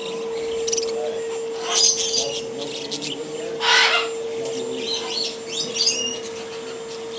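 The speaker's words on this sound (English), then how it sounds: "Exotic bird shop." Exotic birds in a bird shop in Belleville, Michigan, sending out bright chirps and calls in scattered bursts over a steady electrical hum, with no one talking.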